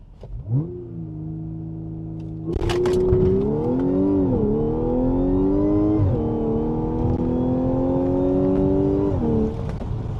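A supercharged Audi S5 in sport mode accelerating hard from inside the cabin: a low idle jumps into a loud, rising engine roar with supercharger whine, briefly dipping at a shift before climbing again.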